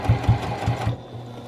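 A sewing machine stitches the corner of a fabric knitting and crochet needle case, giving four quick low thumping stitches in a short burst that then stops.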